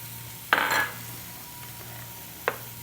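Sliced mushrooms and onions drop into a pan of hot olive oil, a brief loud burst of sizzling and clatter that settles to a faint hiss, followed by a second short scrape or stir.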